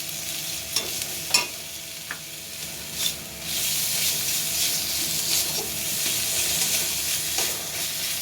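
Spices being stirred in a hot frying pan for a Bengali fish curry, with Kashmiri red chili powder, turmeric and salt: a steady sizzle and hiss with scattered scraping clicks of the spoon, close and moderately loud.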